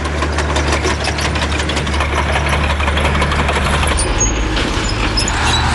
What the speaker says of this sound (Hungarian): már jár a motor